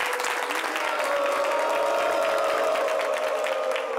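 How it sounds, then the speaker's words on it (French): Steady, dense applause from a large audience, continuous and loud throughout with no pauses. "Applaudissements pour vous-même."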